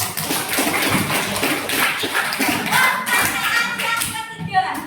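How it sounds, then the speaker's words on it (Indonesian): A school class claps together in a classroom, a lively burst of many hands with uneven, overlapping claps and some loose taps and thumps, tapering near the end. "tepuk tangan dulu buat Dewi dan Arya"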